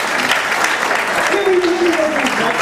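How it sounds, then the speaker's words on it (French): Loud, close applause from the audience at a charity telethon show in Evaux-les-Bains, a thick continuous clatter of many hands with a faint voice and a brief tonal sound rising through it. "Sous les applaudissements pour vos amis."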